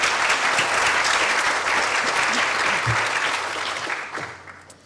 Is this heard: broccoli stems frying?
no